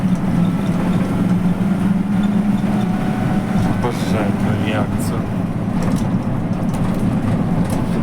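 A BAZ 2215 Delfin minibus on route 5 in Bila Tserkva hums with a steady low engine drone and road rumble while riding, with passengers talking over it.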